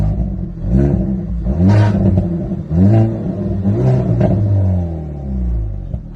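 A Hyundai Veloster engine revs in repeated surges, rising and falling several times at close range, loud and steady with no talking over it.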